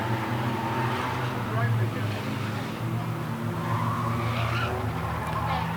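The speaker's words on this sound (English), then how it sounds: "Lockington trying to catch the back end of Brown's 24 machine for 4th and 5th." Race cars run a dirt-track heat race at close quarters, engines droning and roaring steadily, with tire noise throughout and a commentator's voice over the racing.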